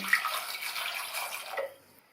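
Water pours into a pressure cooker holding washed baby potatoes, a steady splashing rush that fades out at the end.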